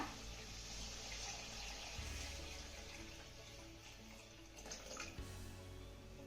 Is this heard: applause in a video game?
no